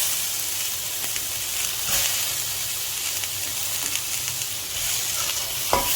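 Onion, tomato, ginger and garlic sauté steadily in a pan for a South Indian mutton drumstick kuzhambu, a continuous close sizzle with a few faint stirring scrapes and no talking.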